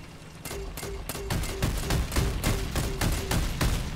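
Retcher automatic grenade launcher firing in the Crossout vehicle combat game: a rapid, regular string of about a dozen loud, punchy launches, each with a sharp report and low thump, evenly spaced and close.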